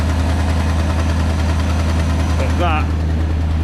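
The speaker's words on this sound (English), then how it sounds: "Getting a little bit of a pop on the it's obviously running a bit rich" A V8 engine running a bit rich on 99 octane fuel idles with a steady, loud low rumble, a brief pop or crackle near the end; no talk over it.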